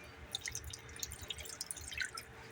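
Water poured into a pan while cooking tocino, heard as light, close splashing and dripping trickles over a couple of seconds, steady and fairly soft with no talking.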